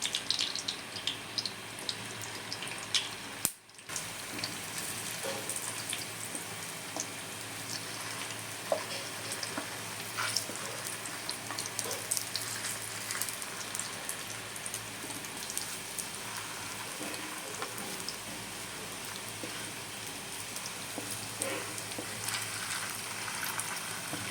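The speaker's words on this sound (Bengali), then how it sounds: "এখন আমি হালকা আঁচে ভেজে নেব পটল, আর এটা ভেজে নেব।" Stuffed pointed gourds fry in oil in a pan over low heat, giving a steady, even sizzle and crackle close by that continues without pause.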